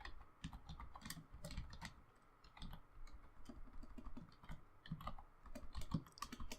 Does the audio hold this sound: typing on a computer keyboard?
yes